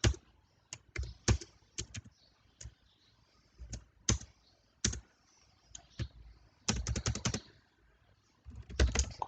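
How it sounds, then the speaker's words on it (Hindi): Typing a C++ program on a computer keyboard: close, crisp keystroke clicks arrive in irregular bursts and quick runs separated by short pauses, with no voices. "एक मैं यहाँ पे प्रोग्राम टाइप करता हूँ"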